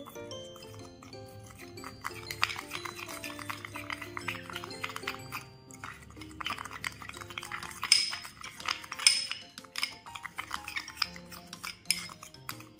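A homemade no-glue slime mixture made with Colgate toothpaste and salt is stirred with a utensil in a bowl, producing faint, irregular clinks and scrapes over several seconds in a quiet room.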